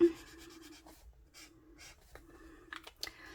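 A pen scratches and glides across paper in short strokes, quiet and close, with small taps and pauses between marks.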